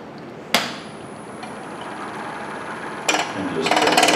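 A wood-turning lathe tool strikes the high spots of an out-of-round wooden sphere, producing sharp, isolated knocks and then a quick cluster of rapid taps over a faint steady hum.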